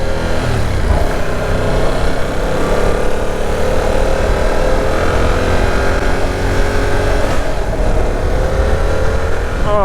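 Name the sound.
2022 Yamaha R7 sport motorcycle engine while riding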